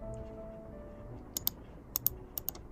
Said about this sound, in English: I'm going to click T on my keyboard and I'm going to type dashboard.